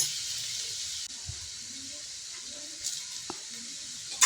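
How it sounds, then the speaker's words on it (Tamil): Onions sautéing in oil with fennel seeds and curry leaves for a prawn thokku, giving a faint, steady hiss of sizzling with a few soft stirring clicks and no voices. "சோம்பு கருவேப்பிலை போட்டு வெங்காயத்தை போட்டு வதக்கிட்டு"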